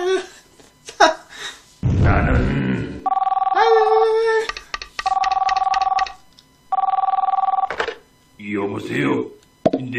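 Telephone ringing in a Korean comedy series, repeated loud electronic ring bursts in an even on-off rhythm, with speech and other noises between the rings.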